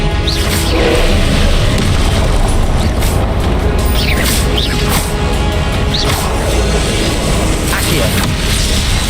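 Spell blasts from Hogwarts Legacy, including Confringo blasting-curse explosions, land as a rapid run of booming impacts and whooshes over a dense, loud battle din, while a voice calls out spell names throughout.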